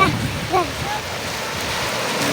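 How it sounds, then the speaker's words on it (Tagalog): Broadband surf wash from sea waves at a beach in San Andres, Quezon, a steady windy roar throughout with a brief voice-like burst early on. "Nandito na kami sa dagat."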